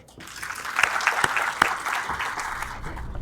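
A hall audience breaks into steady, full applause to welcome a woman poet to the stage at a Jacksonville literary gathering, with a few sharper individual claps standing out near the front of the dense, sustained wash.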